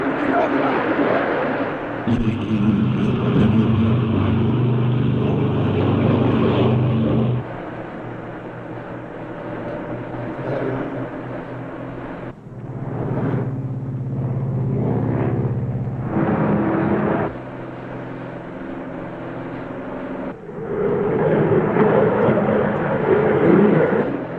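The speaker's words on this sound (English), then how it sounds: "Okay, here we go. Ready for takeoff. Takeoff power." TWA Lockheed Constellation piston engines at takeoff power, a loud, heavy roar that rises and falls in strong surges over about twenty-four seconds, with cockpit voices at times.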